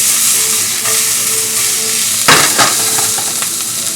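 Poblano peppers and chilies sizzle loudly in hot oil in a pan with a steady, dense hiss, broken by a few louder bursts of stirring and spattering partway through.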